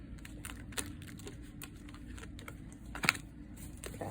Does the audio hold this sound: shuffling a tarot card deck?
yes